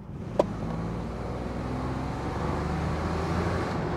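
Steady V12 engine drone from inside a moving Mercedes SL 600 on a straight road, a smooth even acceleration with one brief click near the start, moderately quiet and without speech.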